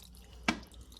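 Water dripping from a leaking toilet shut-off valve, with a worn-out rubber washer, onto a towel: a single short, soft drop against quiet room tone.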